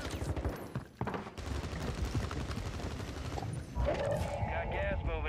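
Rapid bursts of automatic gunfire from a shooter video game's battle royale mode run nearly continuously at close range, dense and loud, with a brief lull around the one-second mark and a heavier, brighter stretch toward the end.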